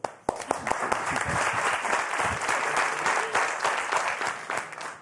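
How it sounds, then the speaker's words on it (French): A TV game show studio audience applauds steadily for several seconds, a dense wash of clapping that starts sharply and holds at an even level. "Isabelle, Estelle, qu'on applaudit également."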